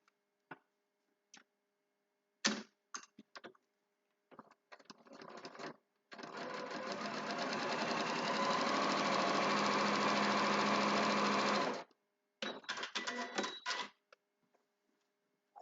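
A sewing machine stitches a foundation paper pieced spool block for a quilt, starting with short stuttering bursts, then running steadily for about six seconds up close, and ending with several quick bursts.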